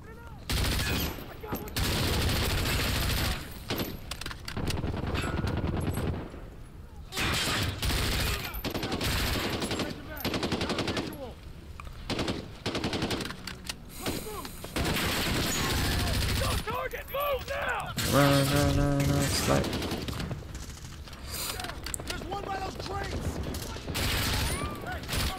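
Gunfire in the Call of Duty: Modern Warfare campaign rattles in dense automatic bursts, loud and near, broken by brief pauses while soldiers shout over the battle.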